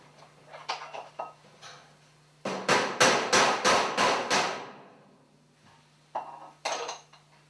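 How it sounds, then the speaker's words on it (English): A few scattered metallic taps, then a rapid run of about eight sharp hammer blows on a thin sheet-metal flangeless air duct seam, followed by two more taps. "and then tap it in place with a hammer"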